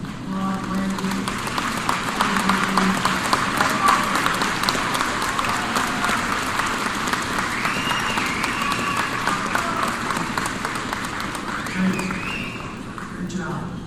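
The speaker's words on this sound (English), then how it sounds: "give them a round of applause" Audience applause at a high school graduation ceremony, a dense sustained wash of clapping from a large crowd lasting the whole stretch, with cheers and voices mixed in.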